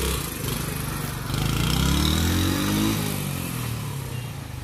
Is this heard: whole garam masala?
no